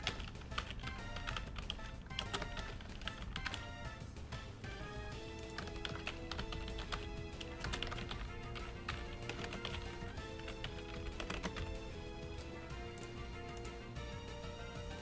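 Rapid, continuous tapping on a computer keyboard, close and steady with fast irregular keystrokes throughout, quiet but clear with a faint tonal hum behind it.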